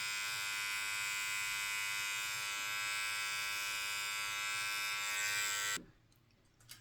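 An electric nose trimmer, one of the Philips NT5650, Wahl 5640 or Remington NE3890, buzzes steadily and close up with a high whine for several seconds while cutting hair, then switches off abruptly into near silence.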